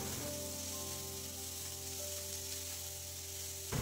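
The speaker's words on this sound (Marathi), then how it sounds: "ते आपण आता घालून चांगले परतवून घेणार आहोत तेलामध्ये" Chopped onion sautéing in hot oil for a Konkani Malvani-style jackfruit vegetable dish, a soft continuous sizzle under a steady low hum, with no talking.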